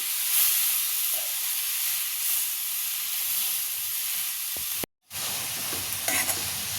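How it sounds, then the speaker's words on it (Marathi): Finely chopped tomatoes sauté over softened onion for tomato soup, a continuous even sizzle with faint stirring, and a brief dropout near the end. "आता मी टोमॅटो घालते बारीक चिरलेले आता ह्याला छान आपल्याला परतून घ्यायचं आहे"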